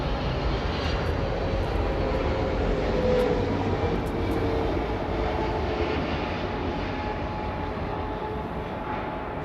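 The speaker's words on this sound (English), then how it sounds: "See how it fights with his engines." Boeing 777 airliner on final approach, its engines a steady, loud, broad roar with faint tonal whine and subtle shifts in power throughout.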